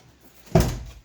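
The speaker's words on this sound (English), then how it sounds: "Driver's door shuts." A car's driver's door slams shut once, a single solid thud with a short resonant tail, fairly close and alone against a quiet background.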